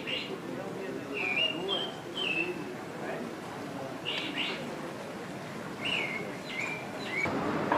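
Recorded birdsong plays from a tape, with repeated short chirps and whistled phrases over a dull indoor background, while people talk faintly.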